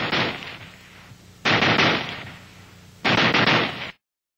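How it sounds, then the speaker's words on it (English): A Browning Automatic Rifle M1918A2 firing at its full automatic rate, three loud, close bursts of rapid shots separated by short pauses, ending in silence. "if you flick this change lever, you can fire at the full automatic rate"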